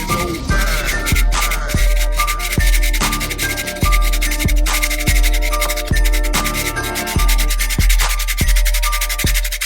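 Two boar bristle hair brushes rubbed against each other during washing, giving a steady scratchy bristle rubbing with regular up-and-down strokes, close and fairly loud, with no voices.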